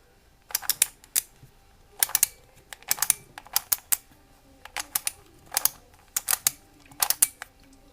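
Skewb puzzle cube being turned clockwise through a solving sequence, giving clusters of quick plastic clicks and ratcheting snaps in irregular bursts, close and fairly crisp, with no talking.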